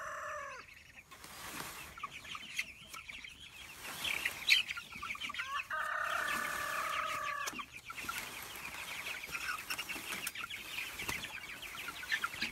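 A batch of young meat chickens being moved along in the morning gives off scattered clucks and short calls at moderate distance, with a clearer run of calls midway over rustling background noise.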